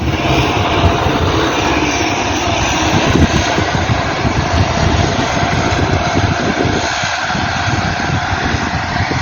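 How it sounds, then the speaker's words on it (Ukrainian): A loud, steady tractor engine drone runs throughout, a heavy low rumble with broadband noise, close and continuous for the whole stretch. "Зараз приїде трактор"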